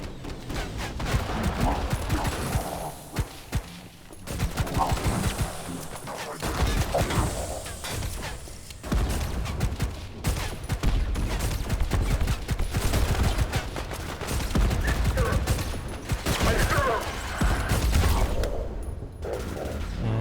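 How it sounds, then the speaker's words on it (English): Concussion rifle fire in the sci-fi shooter ADACA: loud, harsh blasts in repeated bursts with short gaps and ringing debris noise between them, close and dominant throughout. "You'll notice the concussion rifle shot."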